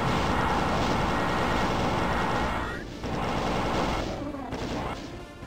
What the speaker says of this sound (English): pull out the rocket launcher and just let them have it